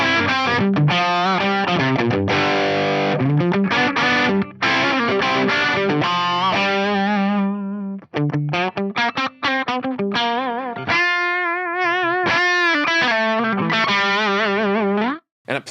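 An electric guitar plays through a Jam Ray drive pedal model into a JTM45 amp model on an Axe-Fx III, giving a loud, continuous overdriven melodic line with sustained notes and bends, alone without talk.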